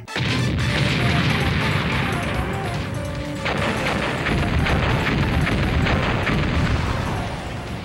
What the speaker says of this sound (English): All board cannons, prepare to fire!